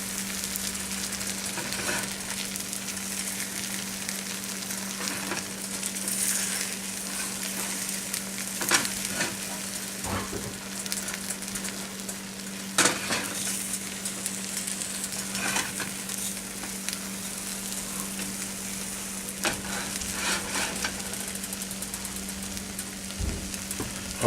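Egg omelette frying in a pan, a steady, even sizzle that fills the whole stretch without a break, close and moderately loud, with a few faint utensil scrapes and no talking.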